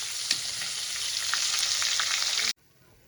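Fish fry in hot oil with a steady, bright sizzle and scattered spattering pops, close by, for about two and a half seconds before stopping abruptly into near silence.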